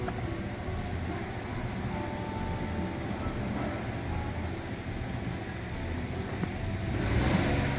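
Nissan March K13 engine idling rough with a cylinder misfire, a low steady rumble with faint uneven shudder, fairly quiet and alone.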